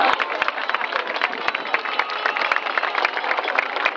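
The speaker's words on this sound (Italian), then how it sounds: "un grazie sonoro con tanto di applauso a tutte le associazioni e a tutti gli organizzatori" Applause at a Sardinia Pride event in 2013, honouring the associations and organisers: a dense, continuous crowd clapping that stays even and lively throughout, with a few sharper claps standing out close by.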